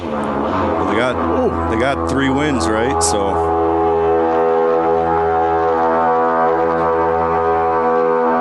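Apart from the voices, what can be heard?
Viking horn blown again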